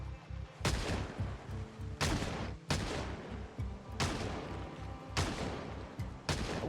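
Repeated gunfire in the zombie survival game Project Zomboid, loud close shots landing in uneven bursts roughly every second or so, each with a sharp crack and rumbling low tail.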